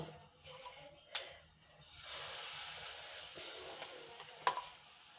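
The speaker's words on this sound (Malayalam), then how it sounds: "ഇനി നമ്മളെ ഈത്തപ്പായം പൊരിക്കുക കേട്ടോ" Batter-coated dates are dropped into hot oil for an iftar snack, and after a few quiet clicks a steady crackling sizzle starts and carries on close by, with a few sharper pops.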